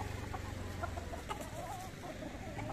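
Roosters and hens cluck together in the open grounds of a village temple, a steady low murmur of poultry chatter with faint bird calls scattered over the top, fairly close, continuous and with no talking.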